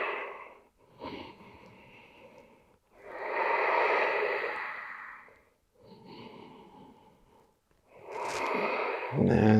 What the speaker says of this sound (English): Let's do another 2 breaths here